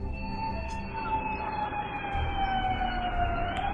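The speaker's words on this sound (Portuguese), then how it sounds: "O som bastante notável de sirenes também pode ser ouvido ao fundo" Emergency sirens wail in the distance during a night drone attack in Russia, a steady rising and falling tone over low rumbling background noise, fairly faint.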